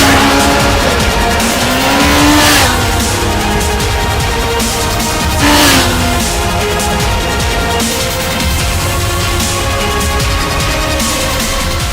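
Loud, sustained engine roar of a Kawasaki Ninja ZX-14R at speed on an open road, wind-heavy and close, with a couple of rising revs as the bike accelerates.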